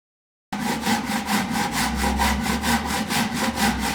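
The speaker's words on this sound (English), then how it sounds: "The first tool we have is the Ryoba saw, a double-sided saw with ripped teeth on one side" A Japanese Ryoba double-sided pull saw cuts through wood in quick, even strokes, about four per second, a close rasping rhythm that starts after half a second of silence and carries on steadily with no talk.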